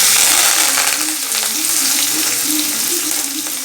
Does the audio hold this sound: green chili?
yes